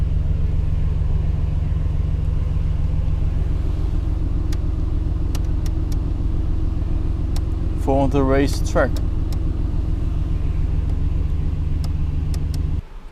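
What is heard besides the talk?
Mercedes AMG GT R Pro engine rumbling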